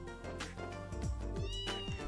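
A cat meows repeatedly in the Trails in the Sky the 3rd video game, several short rising and falling meows heard clearly over cheerful background game music.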